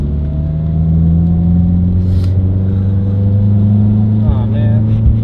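A Subaru STi engine hums at a heavy, steady low drone during a second-gear pull, loud and close, with a short rising rev burst near the end and voices in the background.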